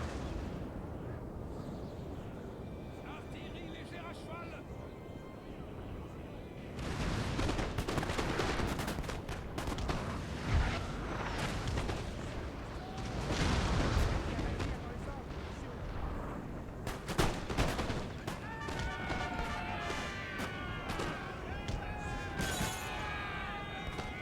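Musket volleys and artillery fire in Napoleon: Total War during a Battle of Waterloo game: a dense, roaring wall of gunfire that surges louder partway through, with heavy booms and crackling shots layered over a constant rumble.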